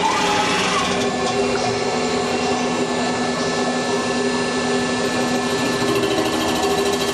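A Rottler EM45 machining center milling an engine block runs with a steady, loud mechanical whine and a constant hum throughout, the tone never pausing.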